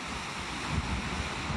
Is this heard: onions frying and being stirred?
no